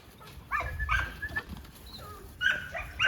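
A female American Sentinel dog in a breeding yard gives a few short, high whines and yelps, faint and scattered over a quiet background.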